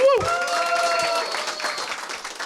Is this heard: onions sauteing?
no